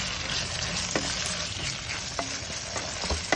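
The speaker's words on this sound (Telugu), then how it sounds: "బాయిల్ చేసుకున్న మటన్ పీసెస్ యాడ్ చేసిన తర్వాత బాగా కలుపుకోండి." Boiled mutton pieces for nalli gosht biryani sizzle steadily in a pan while being stirred, with a few scraping strokes of the spoon cutting through the continuous frying hiss.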